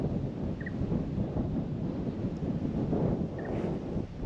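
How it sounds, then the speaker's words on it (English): Wind buffets the microphone at a lakeside campsite in Lane Poole Reserve near Dwellingup, a steady low rumbling gust noise that swells and eases, with a couple of faint bird chirps and no talking. "A little bit windy"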